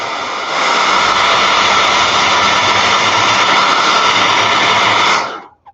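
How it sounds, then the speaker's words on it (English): A loud blow dryer drying paint runs continuously with a steady rushing roar for about five seconds, then switches off abruptly. "I'm going to hit it with the blow dryer just real quick"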